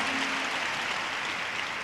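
An audience at a founders' event applauds in a dense, steady wash of many hands clapping together, loud and continuous throughout.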